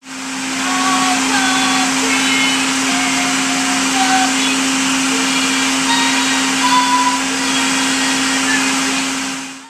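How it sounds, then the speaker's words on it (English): A loud, steady motorized whir and grinding rattle of a food processor running continuously for several seconds, crushing cookies into crumbs. "pulse 32 cookies or 20 sheets of graham crackers in your food processor until you have small crumbs"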